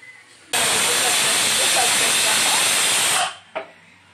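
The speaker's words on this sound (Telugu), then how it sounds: "అది ఆవిరంతా పోయేంత వరకు ఒక 2 నిమిషాలు ఆగుదాము" Pressure cooker venting a loud, steady blast of steam while sambar cooks, hissing strongly for about three seconds before cutting off, followed by one short final puff.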